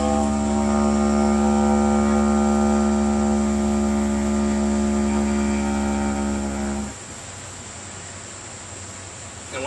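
A didgeridoo drone is held as one loud, steady, buzzing tone with strong overtones, then stops abruptly, leaving only quiet room noise.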